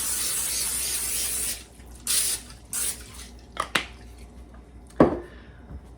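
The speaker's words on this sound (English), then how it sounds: "It also says to spray it with nonstick cooking spray" Nonstick cooking spray hisses onto a baking sheet lined with parchment paper in a few short bursts, the first long and the rest brief, followed by a couple of light clicks and taps.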